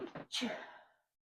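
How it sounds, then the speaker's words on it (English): A single sharp sneeze, a quick intake of breath followed by a burst of air, close and clear, then silence. "excuse me, I'm going to sneeze"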